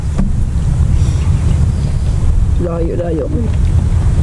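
Strong wind roaring steadily across a microphone at a riverside camp, a dense low rumble without pause while people talk over it.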